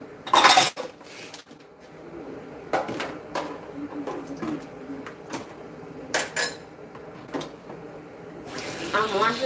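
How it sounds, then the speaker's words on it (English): Dishes, pots and cutlery being washed in a kitchen sink, with clattering clinks and knocks at irregular intervals over a faint background of running tap water. "I'm washing the dishes because I wanna cook mealies."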